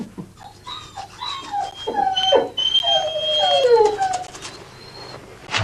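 Racing greyhounds at a dog track give high yips and thin, whining whimpers that rise and fall, a scattered run of squeaky cries over a low steady background hum.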